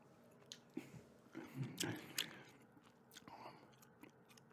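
Gum chewed close to a microphone, soft wet smacks and squishy clicks in an uneven rhythm, quiet and intimate, with occasional faint breathy mouth sounds.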